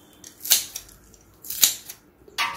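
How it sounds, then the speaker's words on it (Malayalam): Coriander leaves are snipped for a dum biryani in a copper pot, with three crisp, sharp cutting snaps spaced about a second apart, close and fairly loud, with no talk. "പിന്നെ കുറച്ച് മല്ലിയിലൊന്ന് കട്ട് ചെയ്തിട്ട്"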